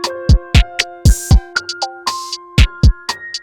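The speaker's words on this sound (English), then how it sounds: "One final rim shot coming in, which is going to sound like this." A rim shot sample snaps through a complex percussive hip-hop loop, with a dense run of crisp, close hits in a syncopated pattern over held synth tones and no voices.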